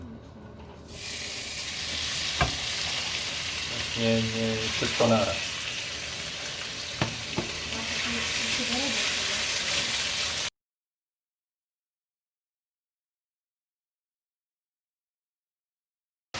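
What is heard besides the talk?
beef stir-frying on high heat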